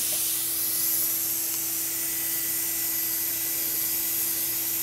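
A cosmetic bronzer spray tan being applied in a salon, a steady airy hiss from the spray gun held close, with a faint constant machine hum beneath and no pauses.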